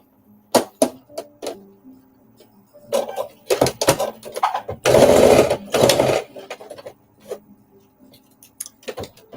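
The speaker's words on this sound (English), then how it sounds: "now I'm just gonna stitch it down 1/8 from the edge" A sewing machine topstitches a jumpsuit pocket down 1/8 inch from the edge, running in short stop-start bursts of stitching with one longer steady run, near and loud, with no talk over it.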